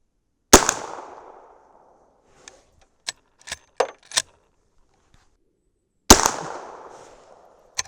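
A Henry Big Boy lever-action rifle fires powder-coated 158-grain semi-wadcutter .357 Magnum rounds outdoors. Two loud, sharp reports ring out several seconds apart, with metallic clicks and clacks of the action cycling between them.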